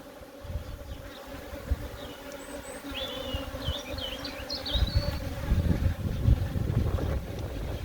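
Honey bees buzzing around a swarm trap hive, a steady insect drone with scattered birdsong overhead, growing louder and denser toward the end with some outdoor wind.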